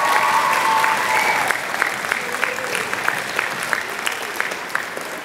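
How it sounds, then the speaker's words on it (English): A school concert audience applauds for a student band member, steady clapping that starts full and loud then eases to a slightly thinner, sustained level, with a faint voice early on. "One more round of applause for Daryl"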